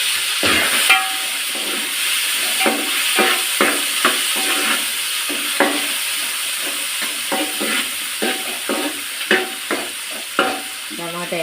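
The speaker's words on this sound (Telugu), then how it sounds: "వేగిన తర్వాత టమాటా వేసుకోవాలి." Tomatoes fry in a pan with a steady sizzle, broken by repeated scraping clicks of stirring.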